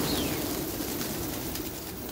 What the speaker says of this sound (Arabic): راح نحبس الحمام عشان الحق اطلع الحمام الثانيه